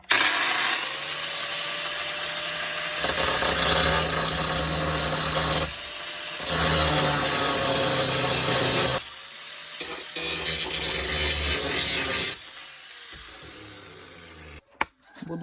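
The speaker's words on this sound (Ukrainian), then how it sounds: "Взяв болгарку, зараз ось тут робимо фасочку" An angle grinder whines harshly against metal in several long bursts, bevelling an edge on MTZ tractor equipment before welding, stopping briefly between passes, loud and close.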